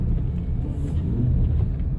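A Honda car with General G-MAX AS-03 tires spins and strains in snow, giving a steady close engine rumble with churning tire noise.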